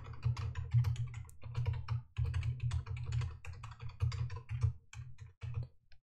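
A password is typed on a computer keyboard, close, quick clicking keystrokes in short bursts with brief pauses between runs.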